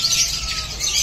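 Small birds in a breeder's aviary chirp and tweet in a dense, continuous chorus of overlapping high calls, fairly close and steady throughout, with a faint low rumble underneath.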